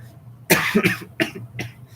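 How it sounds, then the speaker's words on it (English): Several harsh, close coughs in quick bursts, two strong ones followed by two weaker ones, heard alone without talking. "Sorry if I'm coughing."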